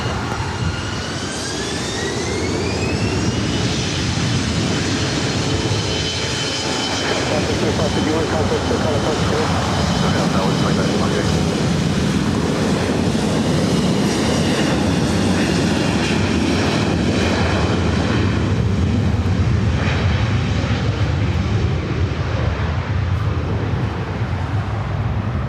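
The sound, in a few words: SkyWest Embraer E175 jet on landing approach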